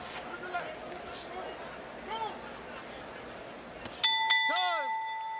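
A boxing ring bell rings out clearly near the end of a round in a professional fight, a bright sharp ding with a ringing tail over a murmuring arena crowd and commentary voices.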